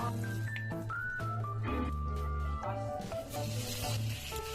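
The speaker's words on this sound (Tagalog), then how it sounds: "isinunod ko na nga din agad iprito itong mga talong" Sliced eggplants fry in a pan, a soft sizzle under steady music, with no one talking.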